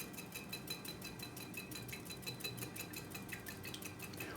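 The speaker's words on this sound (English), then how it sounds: "So just whisking the eggs lightly." Eggs with lemon peel being lightly whisked in a bowl for a gluten-free lemon curd tart, a steady fast run of soft metallic clicks and taps of the whisk against the bowl, close and even throughout.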